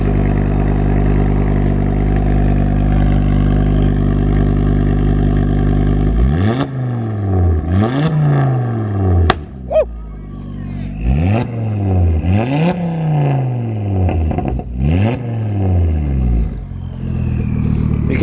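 A Ford Focus ST fitted with a Malian exhaust idles with a loud steady drone, then revs hard in repeated sweeping bursts that rise and fall, with turbo whoosh and flutter audible between pulls, close and dominant.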